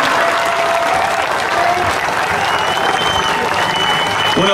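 An audience at a live music event in San Andrés de Giles claps and cheers loudly and continuously, a dense wash of applause with faint voices mixed in, tapering slightly near the end.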